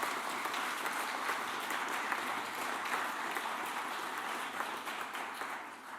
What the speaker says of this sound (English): So maybe a round of applause for the guys sitting at the back.